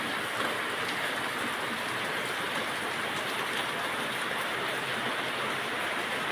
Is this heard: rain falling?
yes